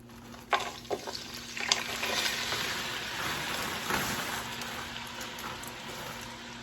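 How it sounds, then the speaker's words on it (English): Frozen potatoes frying in hot oil hiss with a steady, rain-like crackle, and a few sharper pops stand out near the start. "stir these up, fry them up"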